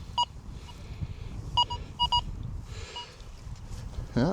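Several short electronic tones from an XP Deus II metal detector sweeping a muddy sheep field, sounding as isolated beeps in a pair and a double, over low wind and outdoor rumble, near and moderately loud.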